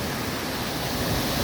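Powerful rushing water of Agbalala Falls pouring into a mountain pool, a dense, constant broadband roar filling the whole moment with no voices.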